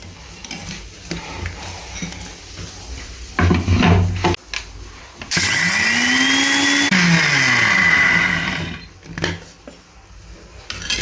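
A mixer grinder blitzes roasted peanuts with salt and dried chillies, several short loud bursts giving way to one long steady whirring grind whose pitch slides as the load shifts, then stops.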